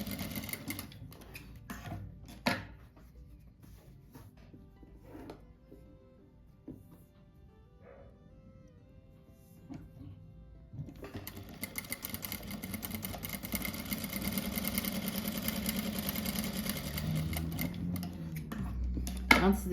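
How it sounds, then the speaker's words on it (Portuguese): A sewing machine stitches small fabric blocks together for a car-shaped cushion. It starts up about halfway through and runs as a steady, fairly loud whir. Quieter handling noises come before it. "Então, eu vou montar primeiro esses 3 aqui. Isso aqui não tem nada diferente, só costurar os 3 bloquinhos."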